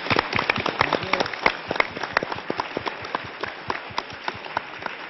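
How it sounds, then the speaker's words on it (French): A French TV studio audience applauds George Harrison in 1977 with dense, continuous clapping and sharp individual claps standing out, loud and sustained throughout. "je vais vous demander maintenant d'applaudir tous,"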